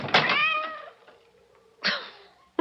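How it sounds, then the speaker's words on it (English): A cat meows outside a door in an old radio drama, one long drawn-out yowl followed by a shorter second meow, clear and close against a silent background. "That cursed cat! Go away!"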